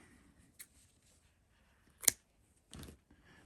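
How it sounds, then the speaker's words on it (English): Scissors snip once sharply, then make a softer second cut, as yarn is trimmed during crochet work in a quiet room. "Just grab my scissors."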